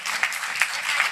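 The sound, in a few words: audience applause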